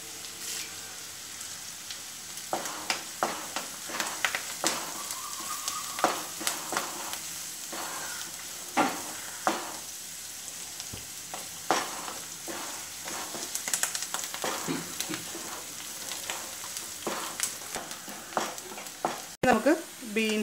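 Curry leaves crackle and spit in hot oil for a Kerala beans thoran, with a steady close sizzle broken by repeated sharp pops and stirring scrapes over about twenty seconds. A voice is heard faintly in the background.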